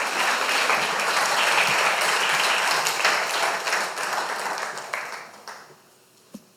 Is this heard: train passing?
no